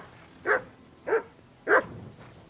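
A dog named Mutt barks three times at an even pace in the Kingdom Come Deliverance 2 video game. The barks are moderate in volume and heard alone over a faint ambient background.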